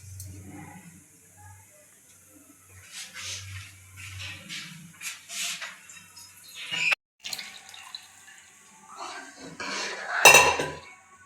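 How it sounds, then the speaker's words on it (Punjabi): A spoon stirs gram flour batter in a pot of Punjabi kadhi, making intermittent metallic clinks and scrapes against the pot with some watery sloshing, close and fairly loud. "ਤੇ ਚਮਚਾ ਮਾਰ ਦੂੰਗੇ ਤਾਂ ਕਿ ਕੋਈ ਲੰਮਸ ਵਗੈਰਾ ਨਾ ਹੋਣ"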